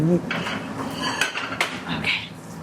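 Plates are grabbed in a home kitchen while a meal is cooked, with several sharp ceramic clinks and clatters of dishes and cutlery scattered over a couple of seconds, close by, under faint talk.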